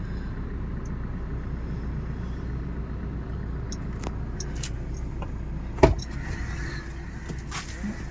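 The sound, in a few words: car starting to move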